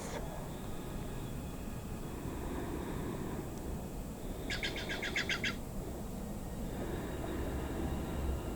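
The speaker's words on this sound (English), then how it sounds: "Might hear a lot of birds." Birds chirp and tweet in the open air, with a quick burst of rapid repeated calls midway over a steady soft outdoor background.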